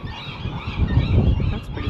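Geese honking at an old warden's house, a loud close cluster of overlapping honks and squawks.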